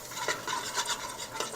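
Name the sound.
goat meat frying and stirred in oil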